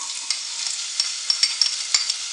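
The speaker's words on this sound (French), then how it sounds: "j'ai commencé à chauffer de l'huile d'olive. J'ai mis sur le feu et je vais ajouter mes oignons" Onions frying in hot olive oil for a Turkish lentil soup, a steady close sizzle with soft stirring clicks and small pops scattered through it, no voices.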